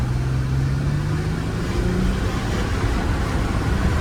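A 2009 Mercedes-Benz E350 sport pulls away on a test drive in comfort mode, its engine drone steady and moderately loud with a slowly rising tone throughout, heard from inside the cabin with no one talking.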